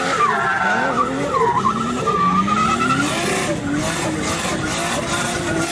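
A front-engine, rear-wheel-drive Safiro A31 drifts with loud, sustained tire squeal, wavering in pitch over a continuous engine drone, close and unbroken throughout.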